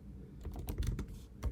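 Terminal commands are typed on a computer keyboard in a quick, uneven run of close, crisp key clicks over a low background hum.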